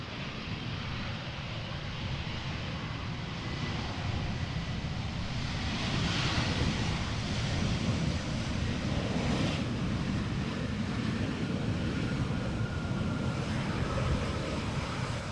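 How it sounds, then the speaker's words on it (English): An Air Canada Boeing Dreamliner arriving at Amsterdam Schiphol Airport, a continuous broad jet roar that swells gradually and holds steady, with wind noise mixed in and no talk. "is an Air Canada Dreamliner arriving"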